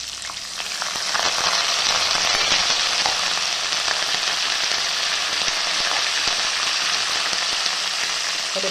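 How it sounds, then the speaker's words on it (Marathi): Curry leaves and green chilli hit hot oil in a pan, and a loud, dense crackling sizzle swells after a second and holds steady up close. "कढीपत्ता पण चांगला तेलामध्ये कडकडू द्यायचा"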